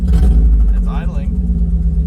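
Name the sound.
1994 Mazda Miata engine idling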